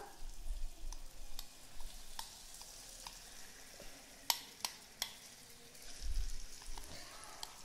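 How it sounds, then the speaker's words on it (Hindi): Wheat flour batter fries in hot oil in a heavy pan over a medium flame, a soft continuous sizzle with scattered crackles and a few sharp pops, fairly quiet and close. "जैसे ही तेल गर्म हो जाएगा अपना तैयार मिश्रण को हम इसके अंदर ऐड कर देंगे सारा का सारा"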